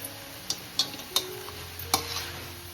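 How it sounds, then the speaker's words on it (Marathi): Fresh grated coconut tossed with chopped fenugreek greens in a pan: a soft sizzle with scattered scrapes and taps of a spatula against the pan, several sharp clicks spread across a quiet background. "आता खोबरा टाकू, ओला नारळ म्हणजे ते टाकू आणि परत थोडी परतू आपण ते."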